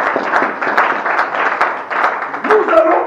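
A church congregation applauding in acclaim of the Lord: dense, even clapping that runs on for a few seconds, with voices underneath.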